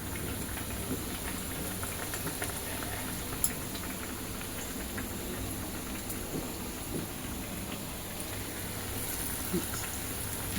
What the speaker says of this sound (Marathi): छानपैकी हा चांगला खरपूस तळून घेऊ